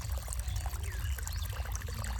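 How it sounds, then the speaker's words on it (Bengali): Irrigation water flowing onto a potato field, a steady, close pouring and trickling rush with low gurgling, continuous and without talk. "এইভাবে জল যাচ্ছে"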